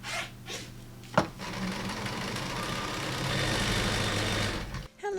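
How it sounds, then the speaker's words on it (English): A sewing machine stitches pieces of a scrap quilt top together, running in a steady mechanical whir for several seconds after a brief knock, close and moderately loud with no talk over it. "I am busy sewing together our quilt top"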